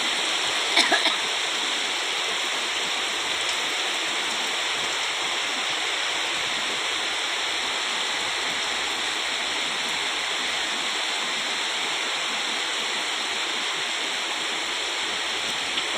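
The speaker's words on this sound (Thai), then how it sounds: "ดีใจจังฝนตกแล้ว" Steady, dense hiss of heavy rain pouring down continuously, with no breaks, close and enveloping.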